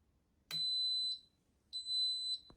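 An Instant Pot pressure cooker signals its finished timer with two high, pure electronic beeps, each about half a second to a second long, clear and alone in a quiet kitchen, ending with a soft click.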